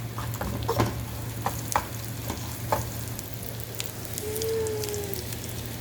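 Food fries and sizzles in a pan during home cooking, a steady crackling hiss with scattered pops and stirring clatter over a constant low hum, no talking.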